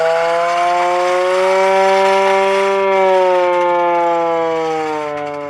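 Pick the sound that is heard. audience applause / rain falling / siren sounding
siren sounding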